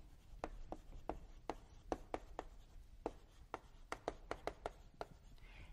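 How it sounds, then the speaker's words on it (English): Chalk or marker strokes on a board during a biology lecture on plant shoots, a quick series of sharp, scratchy taps and short strokes in an uneven rhythm over a faint room hum, with no talking. "I'll write this for you"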